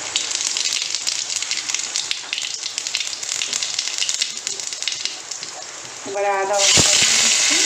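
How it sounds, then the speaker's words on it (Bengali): Cumin seeds crackle and sizzle in hot mustard oil, a dense steady frying hiss under a voice, swelling louder near the end as more goes into the pan. "তেল আমাদের গরম হয়ে গেছে, এবারে সবার প্রথমে আমরা জিরে ফোড়নটা দিয়ে দিচ্ছি।"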